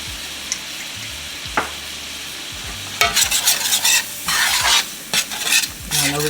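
Flour and butter being stirred and cooked in a pan, starting with quiet intermittent scrapes and then breaking into bursts of sizzling and stirring that swell and fade several times.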